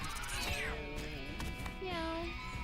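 Kittens meowing in the video game Mewgenics, a few short rising cries over game music and background sound, with talking partly overlapping.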